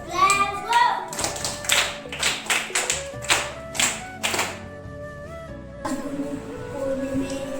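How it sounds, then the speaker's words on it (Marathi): An audience at a school welcome ceremony breaks into several bursts of loud hand clapping, swelling and fading in waves, followed by a lighter patter and faint background chatter. "टाळ्या वाजवा"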